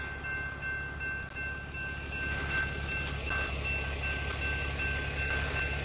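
A train passes a railroad crossing while a car waits at the tracks on the morning commute, giving a steady, close rumble with a faint, continuous high ringing tone throughout.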